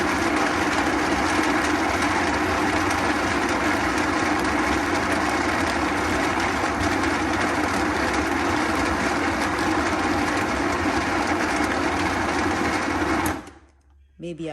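Kitchen blender on its lowest setting churning corn to rub off the skins, giving a dense, steady, rattling whir that runs unbroken and loud for about thirteen seconds before cutting out, with a voice partly audible beneath it.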